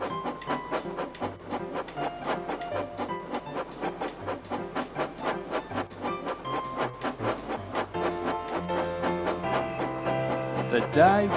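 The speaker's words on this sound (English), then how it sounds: "The train travelled around the railway of Australia" A steam train runs steadily along an Australian railway, with a continuous rhythmic chugging and clatter at moderate, even loudness and a brighter, busier stretch near the end.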